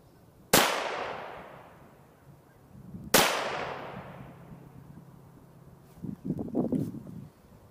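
Two sharp, loud reports from a .22 pistol firing CCI Copper-22 high-velocity segmenting ammunition, spaced about two and a half seconds apart, each with a short fading echo, followed by faint handling rustle.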